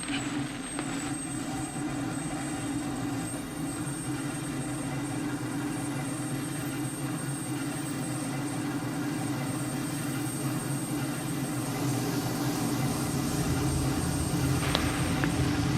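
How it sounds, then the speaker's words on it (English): F-16 single jet engine spooling up in a flight simulator, a steady broadband roar with a high whine running continuously and loudly throughout, no voices. "so let's start the engine. I say the engine, the F-16 is a single engine jet"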